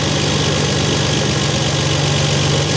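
A vintage off-road wrecker converted to EFI idles steadily up close, a continuous, even engine rumble with a low mechanical hum that holds unchanged throughout.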